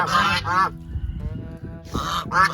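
Geese on a farm honk loudly and close by in repeated bursts, with a brief lull in the middle before the calls start again.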